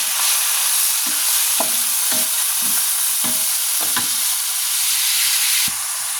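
Food stir-fries in a hot pan after a little water is added, giving a steady loud sizzle broken by repeated scraping and stirring knocks from a utensil, with no talking.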